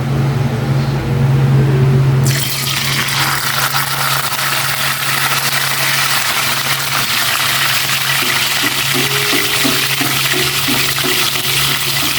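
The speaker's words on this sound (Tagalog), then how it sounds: "Ipiprito ko na itong bangus" Milkfish starts frying with a sudden loud sizzle of hot oil that keeps going steadily, over a low background hum.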